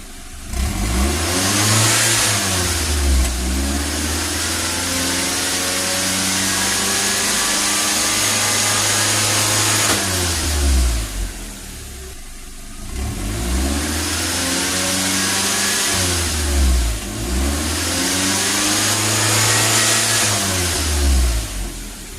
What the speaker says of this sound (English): Once again, the car is running